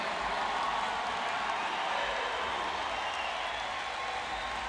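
Continuous, distant crowd applause filling a pool arena after a men's 400m freestyle S6 Paralympic swimming heat at Rio 2016, broad and even without a break.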